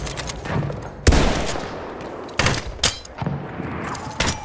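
Machine-gun fire from a sentry gun in Battlefield 1 comes in short loud bursts, with a heavy blast near the start and several sharp, separated volleys after it, over a rumbling battlefield background.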